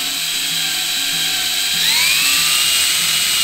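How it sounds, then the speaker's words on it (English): A power drill bores into wood with a loud, steady high-pitched whine whose pitch slides upward partway through as the bit bites, running continuously without any voices. "Make sure you hold the drill straight."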